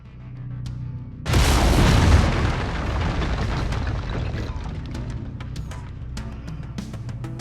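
Mech weapons fire in MechWarrior 5 Mercenaries, a sudden loud booming burst that trails into a long rumbling decay, followed by faint sharp ticks and clicks near the end.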